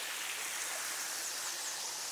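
Steady broadband rush of shallow water trickling out from under a tunnel at the end of a small flooded creek, a continuous hissing flow with no voices, close and even throughout.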